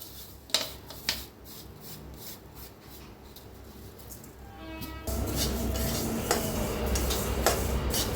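Flax seeds dry-roast in a kadhai on a gas flame, stirred with a few sharp scrapes before a louder, steady rasping crackle builds and carries on to the end.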